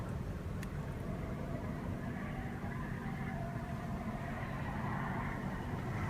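Porsche Cayenne Turbo or Range Rover Sport Autobiography luxury SUV engine running at a steady low idle, a continuous deep rumble close by with no talking.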